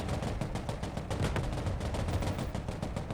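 Tank guns fire during a battle in Broken Arrow, a rapid, loud stream of cracking shots with a steady rumbling low end and no pauses.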